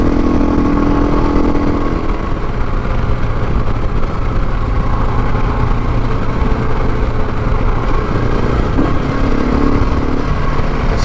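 KTM 701 Rally build motorcycle ridden on fire trails, its single-cylinder engine droning loud and close throughout with steady rumble and wind noise.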